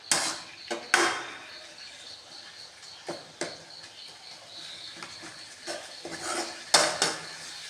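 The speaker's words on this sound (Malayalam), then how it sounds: "നല്ലോണം ഇളക്കി കൊടുക്കുക." Mango pickle is stirred in a metal pot, producing scattered scraping knocks and clinks of the spoon against the pot over a quiet kitchen background.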